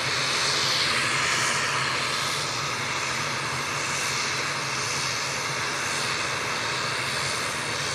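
An Aer Lingus turboprop airliner at Manchester Airport rolls for takeoff, its steady engine roar loud and continuous throughout, swelling slightly at the start.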